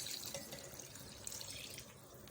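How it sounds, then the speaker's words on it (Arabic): Water is poured into a simmering cooking sauce in a pot, a continuous soft splashing and trickle at low level, steady throughout with no speech. "هروح مزوده عليها الميه"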